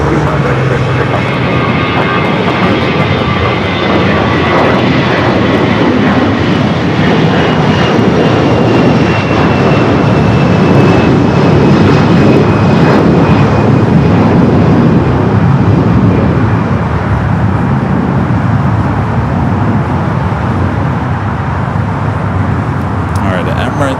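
A heavy jet airliner takes off from runway 25 right at Los Angeles International Airport, its loud, sustained engine roar filling the whole stretch, rising and falling slightly with distance while a radio voice talks over it.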